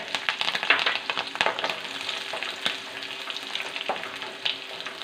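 Spicy green chillies sizzling in hot oil in a pan for a homestyle rasam, a close crackling fry with frequent small pops and stirring clicks, steady throughout.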